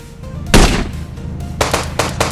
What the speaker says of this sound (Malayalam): ഇപ്പോൾ വെടി വെച്ച് തുടങ്ങി